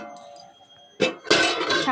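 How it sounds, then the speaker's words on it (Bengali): A metal lid set onto a cooking pot of okra and tomato curry, a short clinking clatter followed by a brighter rattling clang as it settles, close by, after a quiet stretch. "তা আমি এবার একটু বাসনটা ঢাকা দিয়ে দেব"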